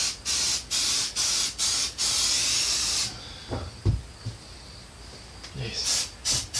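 An aerosol can sprays a white mist onto a four-piece urethane foam decoy mold in six short close hissing bursts and one longer one. Quiet handling knocks follow, then a few more bursts.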